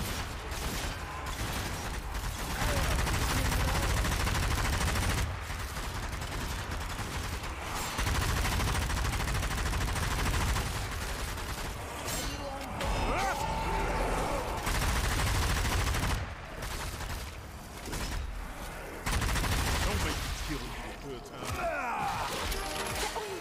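Sustained bursts of gunfire from a zombie video game, loud and dense throughout with brief lulls between volleys, mixed with game noise and occasional voices.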